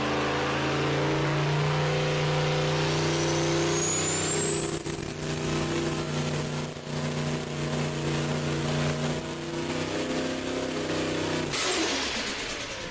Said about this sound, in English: We're going to do a full pass this time, 1200 RPM sweep, really run this thing hard